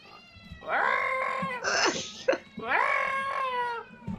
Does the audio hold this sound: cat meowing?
yes